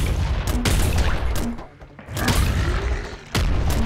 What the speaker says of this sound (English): This is not the place you want to be shooting grenades off in.